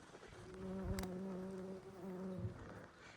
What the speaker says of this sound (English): the bees are still really active on the catmints